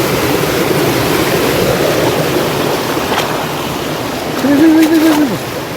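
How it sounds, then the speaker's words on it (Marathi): Small waterfalls and a rocky stream rushing at night during a village crab-hunting outing, a loud continuous roar of water close by, with a voice and a brief tonal whistle rising over it near the end. "असं धबधबे छोटे छोटे आहेत"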